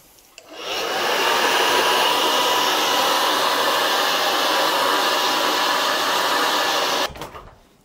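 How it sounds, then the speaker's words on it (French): A hair dryer drying a watercolour seascape painting switches on with a click, blows in a loud, steady, close whoosh for about six seconds, then cuts off with a brief rattle. "petit coup de sèche-cheveux."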